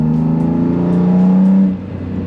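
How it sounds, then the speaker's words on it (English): A BMW E30 inline-six fitted with new mufflers drones steadily through traffic, loud and close, its smooth tone rising slightly before easing off near the end. "it sounds like a BMW inline six"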